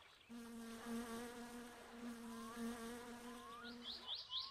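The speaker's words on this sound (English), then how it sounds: "I'm hearing a bee like around my head and it's tripping me up." A bee buzzes in the video game My Summer Car, a continuous low droning hum close by, holding steady for several seconds with slight wavering in pitch and a faint high whine near the end.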